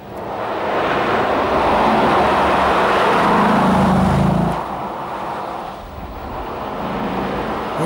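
A 2008 Dodge Charger SRT8 with its V8 engine drives past loudly, a broad steady roar that swells, eases off and builds again, with no talk over it.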